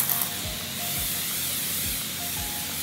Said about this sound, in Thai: ฉีดไปค่ะสเปรย์น้ำแรกนะคะ